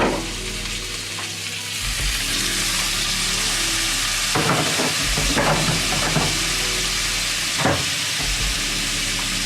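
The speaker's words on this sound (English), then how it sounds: "add extra steam to those sprouts" Water splashed into a hot pan of bacon and Brussels sprouts gives a loud, steady sizzle and steamy hiss, with stirring scrapes and bursts of spitting flaring up over about ten seconds, no voices.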